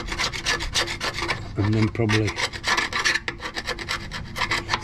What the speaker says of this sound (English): So then I'm just going to get a chisel and go over bits where I've missed.